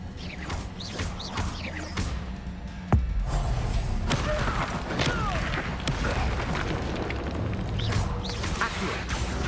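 Video game fire-spell explosions and magical impacts from Hogwarts Legacy, with a sharp blast near the start followed by dense, continuous rumbling crashes and whooshes over a loud, busy game soundscape.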